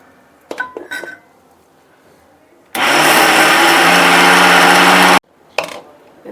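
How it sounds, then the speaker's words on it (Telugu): A mixer grinder roars loudly for about two and a half seconds, grinding cooked, dried chana dal with fennel seeds and cardamom into powder. Brief clinks of the jar come just before and after. "ఇది మిక్సీ చేసేద్దాం."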